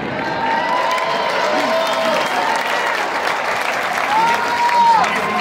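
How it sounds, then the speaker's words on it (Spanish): Crowd applauding and cheering in the stands of a charro arena in Ciudad Juárez during a rodeo-style event, a continuous wash of clapping with whistles cutting through. "Que se escuche el aplauso."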